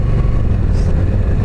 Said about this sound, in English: Exhaust has a nice tone to it, even though I just drilled the baffle.